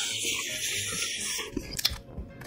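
Someone eats spicy food with small octopus, with soft wet chewing and a few crunchy bites toward the end, close to the mic and without speech.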